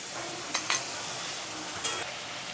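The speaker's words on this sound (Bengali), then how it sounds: "এবার তেল ছাড়া অবধি আমি মশলাটাকে ভালো করে কষিয়ে নেব" Spice paste with green chillies being stir-fried in a pan for a fish curry with potato and raw mango, a quiet steady sizzle with a few sharp scraping clinks of the spatula.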